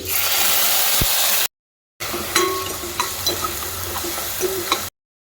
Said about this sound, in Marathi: नंतर टोमॅटो आणि कांद्याची ग्रेव्ही केलेली टाकायची।